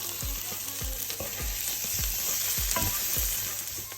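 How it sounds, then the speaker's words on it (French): Red lentil dahl fries in a pan with a constant sizzle, while a spoon scrapes through it in regular stirring strokes about twice a second, close and alone. "Je mélange bien. Je baisse un peu le feu."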